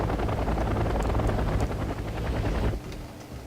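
Loud, steady rotor drone of Cobra attack helicopters in the video game Wargame: European Escalation, with a deep rumbling throb, easing slightly near the end; a few faint higher pings above it.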